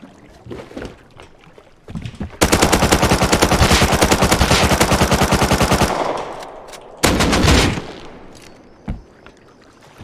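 Sustained automatic gunfire in the survival game Rust, a long rapid burst of loud, closely spaced shots lasting several seconds, then a second shorter burst after a brief pause, with scattered single cracks around it.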